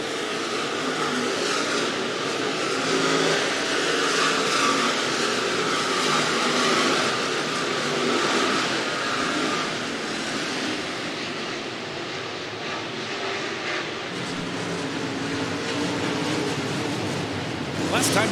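Modified race cars roar around a clay dirt speedway at Clay County Speedway, with a dense, continuous engine drone from the field of cars and a commentator talking over it.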